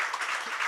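Brief applause at a research report launch event with Shreyas Iyer present, a short burst of several hands clapping, moderately close.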